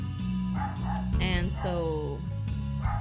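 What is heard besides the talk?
dog barking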